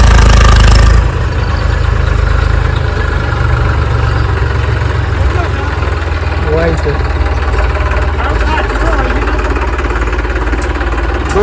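A tractor engine idles with a steady low chugging rumble throughout, loud and close.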